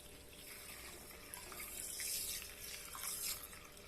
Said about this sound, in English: This is unrinsed rice, so just add water.